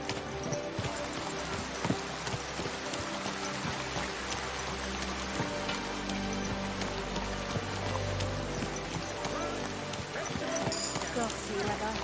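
Horse hooves clip-clop in Kingdom Come: Deliverance II while riding through a medieval town, a steady trotting patter under a busy bed of ambient crowd noise and muffled voices, moderately quiet throughout.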